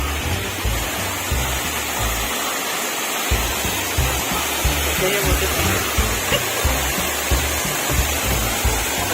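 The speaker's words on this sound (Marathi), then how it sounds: "आलो तर देवघरच्या वॉटरफॉल साठी बघू आता कसा वॉटरफॉल आहे काय" The Devghar waterfall near Diveagar gives a loud, steady broadband roar of falling water that fills the whole stretch, with low rumbling wind buffeting underneath.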